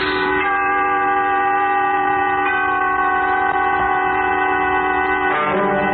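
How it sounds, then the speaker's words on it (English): A steam-era train recreated as a sound effect for a radio drama: a sustained, chord-like whistle blast holds steady for several seconds, loud and close, with a brief shift near the end and no talk over it. "Tonight, you will take a trip on a train"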